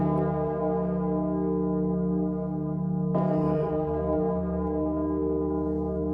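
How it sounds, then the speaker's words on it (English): A large bell rings with a deep, sustained humming tone, and a second strike partway through renews its bright overtones before they fade slowly, with no talking. "That is a big bell."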